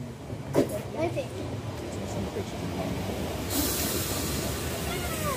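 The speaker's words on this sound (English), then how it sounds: "Front the train." A train rumbles past nearby with a steady rolling roar and a rising hiss, while people talk over it.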